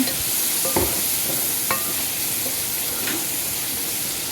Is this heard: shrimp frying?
yes